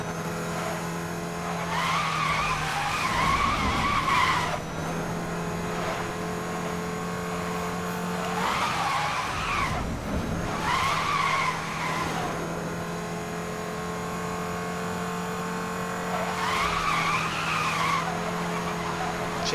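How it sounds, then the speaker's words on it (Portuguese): Tires squeal in Need for Speed: Most Wanted as a Ford Focus RS500 races, with a steady engine drone and several long, loud skidding screeches in repeated bursts through corners, no talking. "Chega canta pneu"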